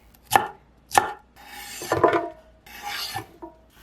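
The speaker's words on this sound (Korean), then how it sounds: "빨간 파프리카는 길이 방향으로 썰어주세요." A knife slices a red bell pepper lengthwise into long 8 mm strips. Several crisp, close cuts land at an uneven pace with no talking.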